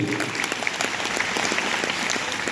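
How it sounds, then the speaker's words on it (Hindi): An indoor audience at a business success-speech event applauds, a steady patter of many hands clapping at moderate volume, continuous and fairly even, with no voices standing out above it. "एक बार ताली होनी चाहिए जसपाल सर के लिए"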